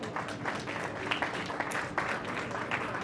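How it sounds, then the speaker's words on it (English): A round of applause from the audience at an Indo-Canadian Community Association event, a steady wash of many hands clapping at moderate loudness for about three seconds. "May I have a round of applause for them as well,"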